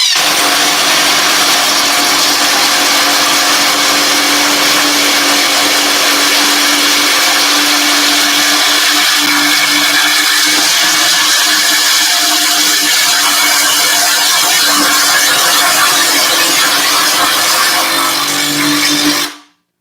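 Ridgid and rival cordless impact tools, Hercules and Harbor Freight among them, run at speed 2 in a head-to-head test, giving a loud continuous high-pitched whirring and rattling that holds steady for about twenty seconds, then cuts off abruptly.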